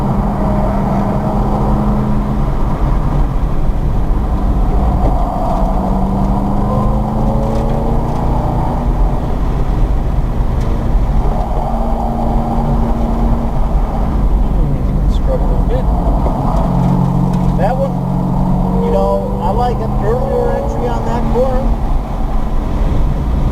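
Saleen race car lapping Summit Point's Jefferson Circuit, recorded from inside with a loud, steady engine drone and shifting tones over constant wind and road roar, people talking throughout.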